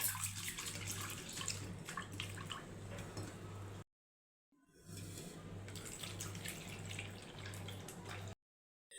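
Steady running water splashing into a bowl of black gram lentils being washed, with a brief pause midway, then continues; faint low hum underneath, no voices.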